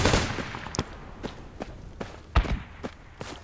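Gunfire in the military video game Project Reality: a handful of sharp, separate shots at irregular intervals, some louder and closer, others fainter, over a quiet background.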